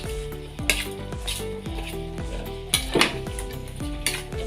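Chives go into a pan of grated potato and carrots that sizzles steadily while a utensil scrapes and clinks against the pan in repeated close strokes.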